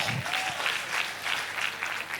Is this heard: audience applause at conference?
yes